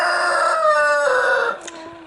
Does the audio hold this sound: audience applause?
no